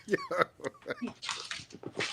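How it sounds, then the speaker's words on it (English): A mixed-breed dog yelps and whimpers in short bursts close to the microphone, tangled with people talking over a live stream. "Sorry, my dog's going crazy."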